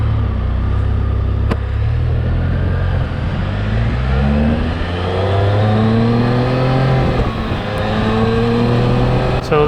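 Engine of a 2019 Can Am Spyder RT Limited three-wheeled trike accelerating on a freeway, loud and steady throughout, with rising and falling engine tones and heavy wind rush and no talking.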